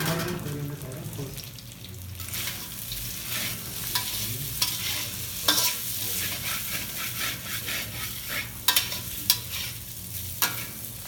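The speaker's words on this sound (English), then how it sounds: "Stir it, make sure it's not sticking" Cumin, coriander and garam masala fry in a pan while being stirred, giving a steady close sizzle with scraping strokes and occasional sharper knocks of the utensil throughout.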